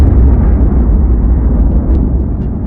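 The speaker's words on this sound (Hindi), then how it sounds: "बीच के इस भयंकर दबाव के कारण एक विशाल विस्फोट हुआ" A huge explosion sound effect depicting the birth of the Sun, a deep sustained rumbling roar that is loud and heavy from the start and barely fades over its length, with no voices.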